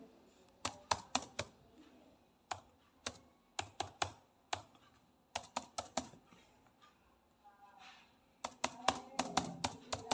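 Account number typed on a computer keyboard: close, crisp key clicks in quick bursts separated by short pauses, ending in a denser run of keystrokes.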